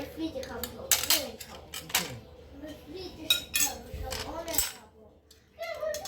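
A metal spoon clinks repeatedly against dishes while ghee is served alongside bhuna khichuri, sharp close taps in an irregular rhythm, with a voice talking over them.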